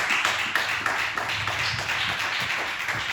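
A church congregation claps and applauds together through a worship service, a dense, continuous patter of hands with sharper accents, recorded nearby without speech.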